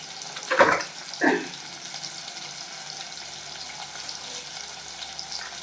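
Dried red chillies drop into hot oil for a goat blood fry, setting off two quick, fairly loud sizzling bursts a moment apart, followed by a soft, steady frying hiss.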